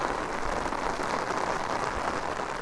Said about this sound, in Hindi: बारिश बहुत ज़्यादा तेज़ हो गई है